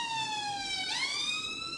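A loud electronic siren wails steadily, its pitch sliding down and then bending back up in a single smooth sweep, heard alone with no voices over it.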